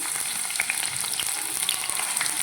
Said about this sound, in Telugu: ఆయిల్ హీట్ అయింది ఇప్పుడైతే ఆనియన్స్ వేసుకుంటున్నాను